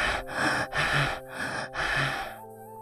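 Sharp, repeated gasps and heavy panting breaths from a person jolting awake in a dramatized horror audio story, four or five quick breathing bursts close up with no speech.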